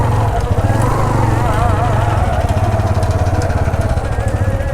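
A motorcycle engine idles and putters steadily nearby while being parked, a throbbing low rumble with a regular pulse, while someone talks over it.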